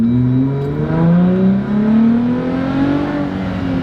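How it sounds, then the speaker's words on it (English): A custom Jeep Gladiator SEMA build revving its exhaust up close, a loud, deep, rumbling engine note that rises and swells steadily in pitch across the whole stretch. "I have never heard an exhaust like that before"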